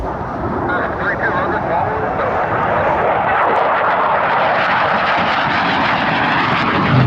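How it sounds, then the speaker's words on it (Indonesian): Jet airplane roar, broad and loud, holds steady throughout as a toy jet plane is shown, with a person talking over it. "Widih, ada pesawat jet."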